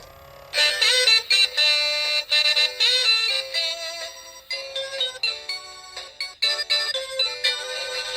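A Gemmy animated saxophone Santa toy, running after a gearbox repair, plays an electronic tune loud and bright, a chirpy synthesized melody with rhythmic bursts, running on its own without talking.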